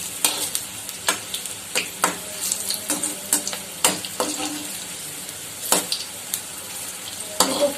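Jackfruit koftas fry in oil in a pan with a steady close sizzle, punctuated by frequent sharp clinks and scrapes as they are turned.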